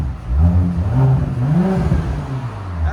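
Audi S7 twin-turbo engine revving hard and steadily up and down for three seconds, a loud, close, continuous throaty roar with no talking.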